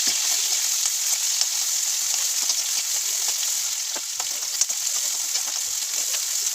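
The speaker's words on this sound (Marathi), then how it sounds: "त्यानंतर त्यात उभा चिरलेला कांदा टाकून घेऊ आणि तो पण चांगला परतवून घेऊ" Sliced onion frying in a pan with mustard seeds, cumin, chillies and curry leaves for spicy pasta, a dense, constant hiss of sizzling oil with small crackles throughout.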